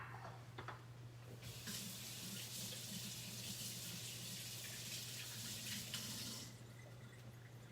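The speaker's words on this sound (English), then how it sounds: "I'm gonna go wash my hands." Tap water running steadily into a sink during handwashing, a soft continuous splashing hiss that swells for several seconds and then eases, heard at a distance under a low electrical hum, no talk.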